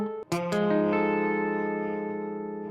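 A single guitar chord, a voicing with its major and minor thirds swapped, is struck after a short muted pick and rings out with a dense, dissonant sustain. Effects and reverb colour it as it slowly fades.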